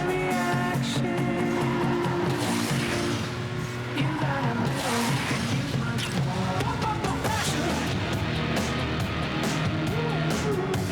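Racing cars in the mobile game Asphalt 9 on a Samsung M11 roar continuously with engine whine, tire squeals and skids, a dense, busy game soundtrack mixed underneath.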